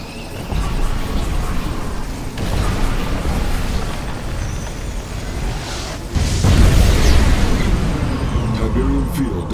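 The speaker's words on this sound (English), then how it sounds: "Ion cannon activated." Ion cannon strike in the real-time strategy game Command and Conquer 3: Tiberium Wars, a loud rumbling blast with a sustained roar that swells further midway, under game voice announcements.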